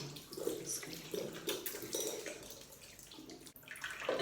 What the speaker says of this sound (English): and then wash it off.